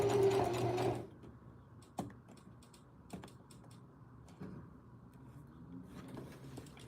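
A sewing machine stitches a jeans hem right beside the fold, with a loud, steady run of rapid stitching for about a second before it drops to a quiet hum with a few soft clicks and bumps.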